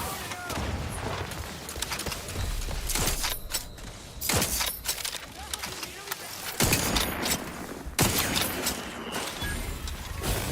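Turret gunfire in The Outer Worlds 2, with dense bursts of shots and impacts crackling in several loud volleys amid game combat noise.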